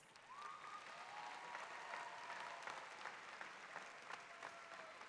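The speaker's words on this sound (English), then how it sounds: "Now give them another roaring round of applause." A crowd applauds at a high school graduation ceremony, sustained and even clapping heard at a distance in a large reverberant space, with a faint tone sliding underneath.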